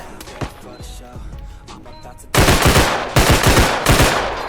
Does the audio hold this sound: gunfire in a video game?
yes